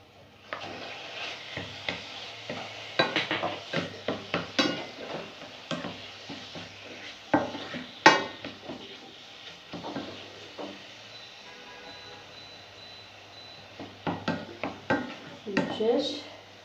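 Chicken pieces go into a pan of softened onions and are stirred, with scattered scraping and clattering utensil knocks against the pan in bursts, close and fairly quiet, alongside a faint background hum.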